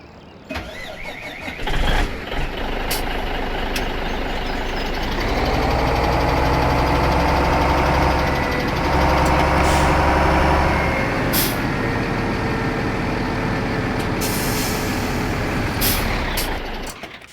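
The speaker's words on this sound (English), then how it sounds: "let me go ahead and fire it up for you so you can hear it in action" A Kenworth truck in a driving video game cranks over, catches and settles into a loud, steady diesel idle. Near its start there is a brief air hiss and a few clicks, and no one speaks.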